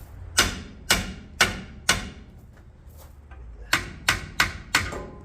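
Hammer blows knocking the steering pitman arm off a 1978 Ford F100, a series of sharp metallic strikes, four in an even rhythm, a pause, then four more, close and loud.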